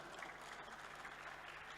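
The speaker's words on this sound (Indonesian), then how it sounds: "Tepuk tangan untuk kita semua." An audience at an Isra Miraj religious gathering gives a short, even round of applause, a dense patter of many hands at moderate distance with no break.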